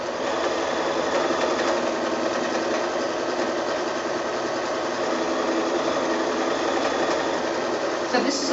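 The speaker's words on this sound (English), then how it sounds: "we'll just quickly overcast that" A sewing machine runs an open zigzag overcast along a fat-quarter fabric seam for a gift bag, a steady close buzzing hum throughout with a small bump near the end.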